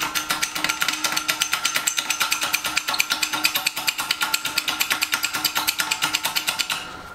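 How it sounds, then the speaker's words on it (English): Hub being pressed out of the bearing of a Cobra IRS knuckle, with a rapid, even train of sharp mechanical impacts like an impact or air tool hammering close by for about seven seconds before stopping. "now we're gonna press out the hub from the bearing"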